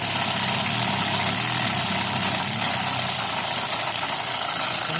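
A garden railway locomotive's small electric motor runs continuously with a steady, fairly loud whirring drone and a slight rhythmic knock, close by with no voices.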